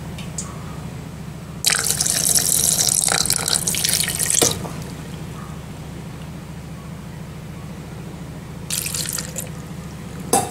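Water gushes from a tap into a jar in a loud burst for a few seconds, stops, then runs again briefly, over a steady low hum.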